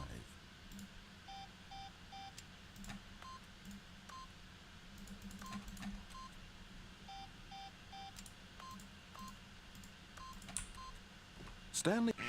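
Keypad beeps in The Stanley Parable as a PIN code is entered, two runs of four evenly spaced electronic tones, heard under narration, with a sharper electronic sound at the end.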